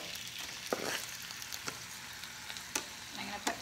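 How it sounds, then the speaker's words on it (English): Chicken pieces sizzling as they stir-fry in a pan, a steady close hiss of frying with a few sharper crackles and pops spread through it. "I don't know if you can hear that sizzle, but it's definitely sizzling."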